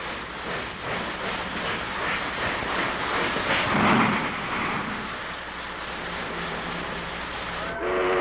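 The White Pass rotary snow plow train, a 130-ton rotary plow pushed by locomotives, rumbles along with a deep mechanical roar and rattling cars, and a brief horn toots near the end.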